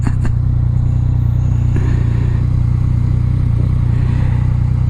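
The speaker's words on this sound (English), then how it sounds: "First gear power wheelie." Motorcycle pulling a first gear power wheelie, a loud, steady engine roar with dense rumble and wind, close throughout, a brief clatter at the start, no talking.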